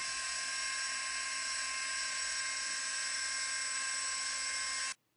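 A dental drill runs on an egg model used to demonstrate a minimally invasive sinus lift, giving a steady, high-pitched whine that holds unchanged for about five seconds before cutting off abruptly.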